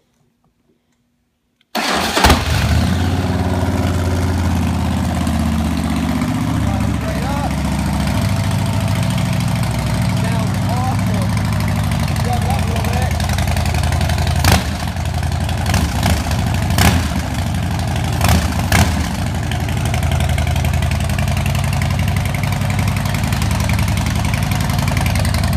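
A 2010 Harley-Davidson Street Glide FLHX motorcycle engine cold-starts abruptly after near silence, then settles into a loud, steady, rumbling idle that continues throughout with a few brief sharper blips.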